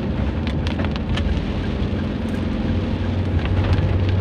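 Steady rain falling on a road in Banyumanik on the Semarang–Salatiga route, a continuous dense hiss with low traffic rumble beneath, moderately loud throughout.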